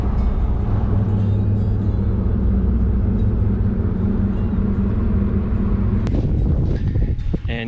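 Car cruising on Highway 98 toward St George Island, a steady loud in-cabin road and engine drone with constant low rumble, no speech.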